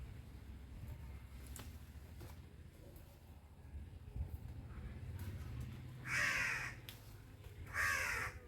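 A crow caws twice, loud and harsh, against faint background noise.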